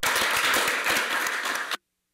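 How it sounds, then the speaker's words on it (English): An audience claps in a university lecture hall, a dense, steady burst of applause lasting under two seconds before cutting off abruptly. "give him a little bit of applause"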